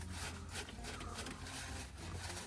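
A cloth rubs excess weathering paint off a WPL C74 Suzuki Jimny model vehicle, producing soft, quiet, continuous scrubbing close by with slight pulses of pressure.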